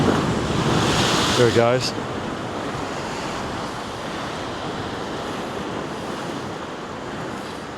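Ocean waves wash over rocks in a steady close roar of surf and wind, with a brief spoken remark and a thin whine near the start.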